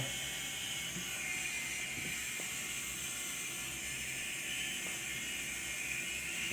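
An Enchen K8 electric shaver runs continuously with a steady high whir and faint mechanical ticking, close and even throughout.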